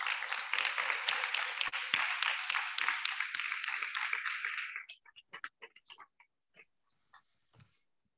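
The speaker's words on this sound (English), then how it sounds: "let's have a round of applause for him." A lecture audience applauds steadily for several seconds after a mathematics course lecture, then the clapping thins out to a few scattered claps and stops.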